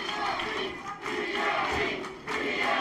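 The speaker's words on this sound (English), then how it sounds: "The chant of PME reigning through the South Broadway Athletic Club" A wrestling crowd in the South Broadway Athletic Club chants PME in a loud, rhythmic, sustained group chant that fills the room, dipping briefly between repetitions.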